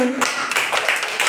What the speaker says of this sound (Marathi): अरे वा, टाळ्या वाजवा.